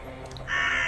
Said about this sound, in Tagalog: Tapos ang daming mga ibon.